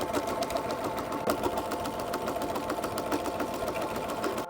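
A domestic sewing machine runs steadily, stitching a seam on a Simplicity S3189 garment pattern, its motor humming with a fast rapid needle chatter, close and continuous throughout with no talking.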